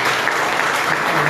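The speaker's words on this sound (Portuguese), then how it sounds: "Podemos aplaudir ao nosso Deus por essa palavra?" A church congregation applauds together, a steady dense wash of clapping filling the whole moment at moderate loudness with no voices over it.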